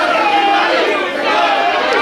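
A wrestling crowd at an independent Limitless Wrestling show reacts against the wrestler Swipe Right, a steady, dense roar of voices and chatter filling the hall for the whole stretch without letup.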